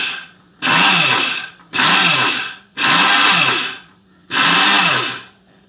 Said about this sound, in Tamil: வந்து நம்ம மிக்ஸி ஜாரில் பொடிக்கலாம்